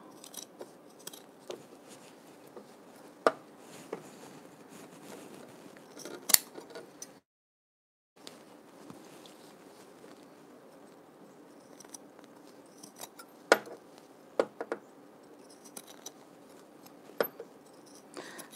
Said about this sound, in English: And now I will trim all that extra fabric off so it doesn't bunch up in the seams.